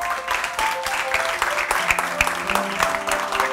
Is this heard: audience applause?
yes